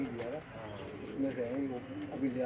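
Pigeons coo in a pigeon-keeping setting in Sukkur, soft rolling low calls repeating close by while people talk over them.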